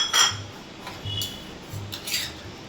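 A metal spoon clinks against a bowl while lifting steamed eggs out, several light, sharp taps spaced across a quiet kitchen background.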